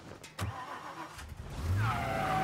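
A car engine in the game Mafia Definitive Edition hums at a low idle, then rises into a steady rev in the last second, with a couple of brief clicks early on and no talk.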